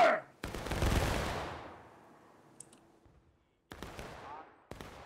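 A musket volley in the War of Rights game, set on a Maryland Heights battlefield: one loud, rolling crash of massed fire that decays over about two seconds, then a few scattered later shots, with faint voices.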